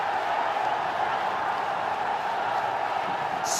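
Cricket crowd roaring after a boundary is hit, a steady, loud wash of cheering and applause from a packed stadium that holds an even level throughout with no break.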